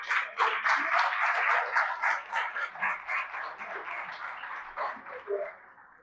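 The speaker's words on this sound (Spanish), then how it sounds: "Levanten su mano y denle un aplauso al Señor" A church congregation at a Spanish-language worship service claps and cheers together, a dense sustained burst of applause that gradually fades over several seconds.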